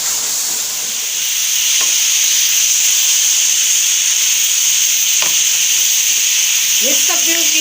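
Mixed vegetables of potato, peas, carrot and cauliflower hit hot roasted spices in a pan, giving a loud, steady sizzle and hiss with a few scraping stirs near the end.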